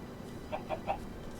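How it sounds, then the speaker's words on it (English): A chicken in the Minecraft video game clucks three times in quick succession, moderately loud over a steady low background hum, with no talking. "It's a chicken."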